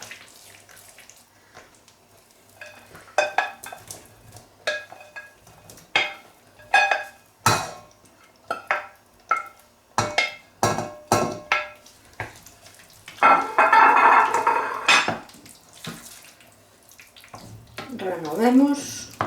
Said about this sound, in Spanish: Y ahora ponemos la carne.